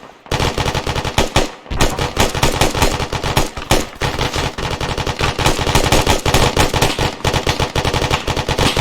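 Rapid bursts of automatic gunfire crack out loud and close during a military field training exercise, with a short pause near the start, then near-continuous volleys of shots.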